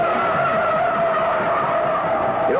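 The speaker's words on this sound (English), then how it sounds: "firing this car through a corner in a four-wheel drift with power on" A 1969 Dodge Charger 500 HEMI slides through a corner in a four-wheel power drift, its tires letting out a sustained, loud, even squeal that holds steady throughout.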